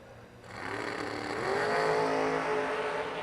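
An open-topped, open-bodied roadster makes a drag race run: a broad engine roar rises from a quieter start and holds loud and steady, revving hard with a harsh, building tone.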